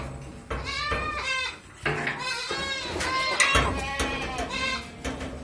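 Beetal goats on a stall-fed goat farm bleat repeatedly in overlapping, wavering calls, several animals close by and loud, with brief pauses between bursts.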